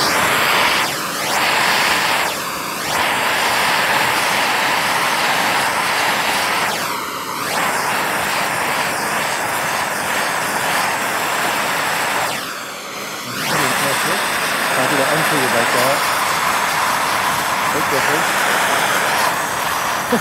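A torch flame blasts against spray foam insulation during a fire test with intumescent paint, making a loud, steady roar that runs almost continuously and dips briefly a few times.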